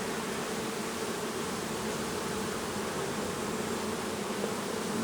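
A strong honeybee colony hums with a steady, dense buzz during queen mating season, the drone continuous and even throughout with no voices present.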